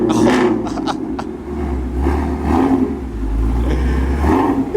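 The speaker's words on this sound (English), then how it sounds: "oh man, that active exhaust" High-horsepower car with a loud active exhaust at a track event, deep engine rumble swelling and easing nearby while people talk excitedly over it.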